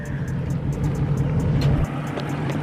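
A Dodge Demon's engine rumbles and revs loudly nearby with its muffler removed, a deep throaty roar that cuts off abruptly partway through.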